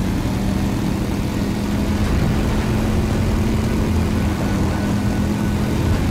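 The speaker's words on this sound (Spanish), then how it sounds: "Maldito helicóptero, eh." Steady helicopter rotor and engine drone from the video game Beyond: Two Souls (Beyond Dos Almas), loud and continuous throughout with a low rumbling hum and no talk.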